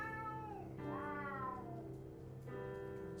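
A cat meows in a drawn-out, wavering call followed by a second shorter meow, faint and somewhat distant against a steady low hum.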